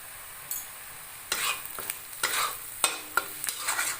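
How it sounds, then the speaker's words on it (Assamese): Onions frying in a pan for butter chicken, with a soft continuous sizzle broken by several louder scraping bursts of stirring, close and without voices. "এইখিনি মই ৰঙচুৱা পৰালে ভাজি থাকিম"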